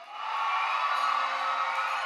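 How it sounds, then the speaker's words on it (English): A large outdoor political rally crowd in San Fernando cheers and whoops in a sustained, dense roar that swells at the start and holds steady throughout. "What a beautiful San Fernando crowd."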